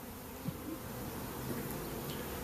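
Dense, steady buzzing of a honeybee swarm swirling together as it moves into a log hive, continuous and fairly close, with individual wingbeats rising and falling through the drone.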